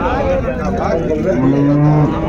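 HF and Jersey calves moo loudly and close by at a cattle market, a drawn-out lowing call rising over steady background noise.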